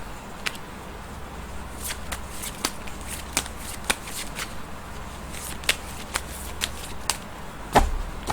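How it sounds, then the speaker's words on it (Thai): Tarot cards are shuffled by hand at close range: a run of crisp, papery riffles and snaps, with a sharper slap near the end, over a low background hum. "เดี๋ยวจะมาเสี่ยงไพ่ยิปซีดูให้เพิ่มเติม"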